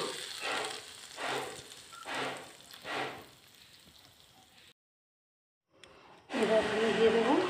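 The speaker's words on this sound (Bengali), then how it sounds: "দিয়ে আমি এই ফোড়নটাকে নারকেলের চাটনির মধ্যে ঢেলে দেবো" Hot tempering poured into coconut chutney sizzles in a sharp, loud burst near the end, after quieter stretches where a person talks and a brief silence.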